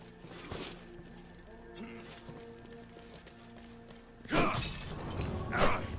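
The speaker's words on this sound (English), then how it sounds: "breaking these breakables like this fast will give you points to go towards upgrading Marius and his executions" Breakable objects smashed in the Xbox One game Ryse: Son of Rome, heard as two sharp crashing shatters in the latter half over quieter game ambience and clatter.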